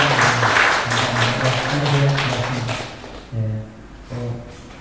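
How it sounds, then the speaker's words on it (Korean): A congregation at a Sunday morning church service claps together over sustained musical tones. The clapping is strongest at first, thins out after a few seconds, and the tones continue in short swells. "우리 경례의 박수 하겠습니다"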